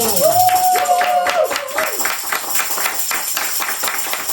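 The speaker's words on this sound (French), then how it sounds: "Acclamons." Church congregation applauding together, a dense stream of claps running steadily throughout, opening with a brief high whistle-like tone over the clapping.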